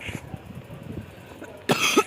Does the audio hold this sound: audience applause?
no